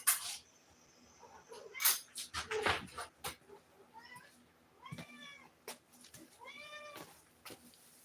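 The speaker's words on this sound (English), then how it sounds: "I hear you, cat." A house cat meows several times, drawn-out wavering calls near the microphone, mixed with scattered knocks and handling noises and some nearby speech.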